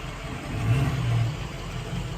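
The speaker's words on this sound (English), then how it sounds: "That's why you're hearing the truck coming in. It's a pickup truck and that." A pickup truck pulls in nearby with a steady mid-pitched engine hum that swells briefly as it revs, then settles to a continuous rumble, no talking over it.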